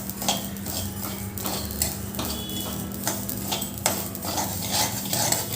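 Amaranth seeds and cumin roast in a pan, stirred continuously with a spoon that scrapes and taps the metal in quick, irregular strokes over a soft background hiss, close and without voices.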